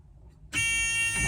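An old military truck's ignition buzzer on a vehicle found in a barn after 30 years switches on abruptly after a brief quiet moment and holds as a steady, loud, harmonic-rich drone to the end.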